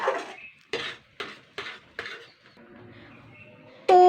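Gobindobhog rice and ghee mixed in a pan, five or six rhythmic scraping clanks of a spoon against metal, close and distinct, then a quieter stretch ending in a sudden louder clatter.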